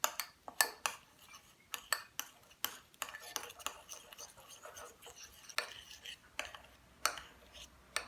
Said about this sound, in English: 1 teaspoon of cocoa added to 3 teaspoons of water, and then just mixed to form a cocoa paste without any lumps in it